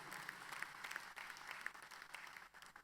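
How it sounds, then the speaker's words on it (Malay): A crowd applauding steadily at a political speech, dense clapping sustained throughout with no voices over it. "Berikan tepukan untuk Datuk Dr. Ashraf Wajdi."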